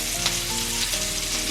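Burger patties sizzle steadily in a hot frying pan, a dense continuous crackle at close range with no voices.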